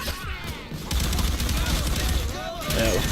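Gunfire in the video game Payday 2 during a safe house raid, a dense, continuous clatter of shots and impacts mixed with game noise and some whooshing effects.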